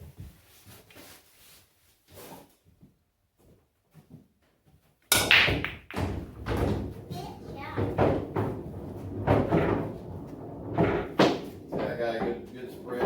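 A cue ball, struck at moderate force, breaks a rack of billiard balls in 8-ball or 9-ball pool with one sudden loud crack, then a clatter of balls rolling and knocking. A person talks quietly before the break and over the rolling balls.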